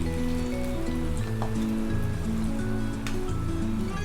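Cauliflower pieces for Gobi 65 deep-frying in hot oil over a medium flame give a steady, dense sizzle that hisses and crackles throughout, with no talk.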